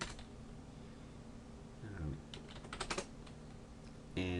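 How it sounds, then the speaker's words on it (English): Quick bursts of keystrokes on a computer keyboard as a command is typed during setup of a Cisco ASA 5505 firewall, soft clicks clustered near the middle then a final keypress. "here I'll type in config factory dash default"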